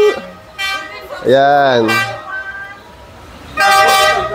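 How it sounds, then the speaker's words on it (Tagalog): Train horn sounding on Hanoi's train street, a loud sustained harmonic toot of about a second, with shorter blasts around it and people talking and calling out excitedly over it. "Yan, narinig ko na yung busina."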